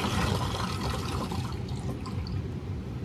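Water runs and splashes out of a saturated sponge as it is squeezed, a close watery rush that gradually tapers off.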